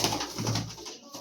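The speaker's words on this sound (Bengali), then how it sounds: "পায়রা ছাড়ো দেখি" Pigeons coo softly at close range in a short burst, a low throaty murmur under light background noise in a pigeon house.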